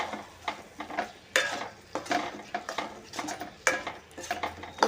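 Spiny gourd curry stirred in a pan, a series of scraping, clinking spoon strokes against metal coming in irregular bursts, close and moderately loud with no talking.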